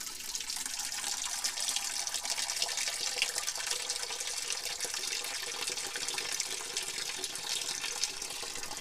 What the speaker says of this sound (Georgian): ეხლა ამაში წყალი ჩავასხათ.